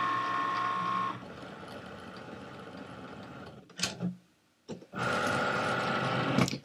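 A Cricut Maker scoring a paper envelope hums with a steady mechanical whir, briefly pauses with a couple of clicks and clunks, then whirs back up at full strength near the end.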